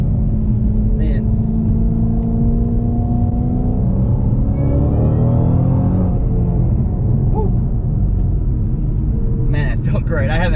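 A Ford Mustang GT500 with a freshly broken-in clutch pulls hard, its engine rumbling and rising in pitch through the gear before easing off, loud and close inside the car with a voice speaking over it.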